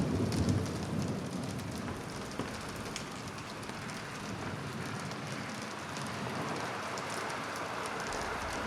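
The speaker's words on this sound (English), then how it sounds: "That's the rain." Steady rainfall patters down in a Bendy and the Dark Revival game scene, a dense continuous hiss with soft rumbling beneath, constant and enveloping throughout with no voices.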